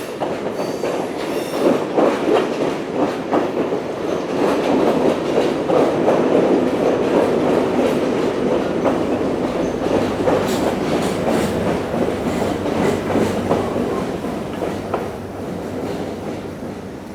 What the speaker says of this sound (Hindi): ये प्लेटफॉर्म नंबर 4 पर कोई ट्रेन आई है